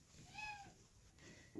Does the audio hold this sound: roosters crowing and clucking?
no